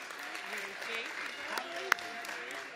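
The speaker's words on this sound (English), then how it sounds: "Let's give a round of applause to Mary Kate." An audience at a mayor's disability awards ceremony applauds in a steady, moderate wash of clapping, with talk running over it.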